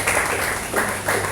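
Church congregation applauding during a Spanish-language sermon, a dense, steady wash of clapping with slight surges in intensity, no voices over it.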